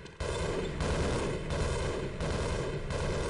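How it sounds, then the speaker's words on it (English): Gunfire in the Half-Life video game: a dense, continuous roar of rapid shots rising in waves, heard steadily at moderate loudness with no talk. "what are they shooting at?"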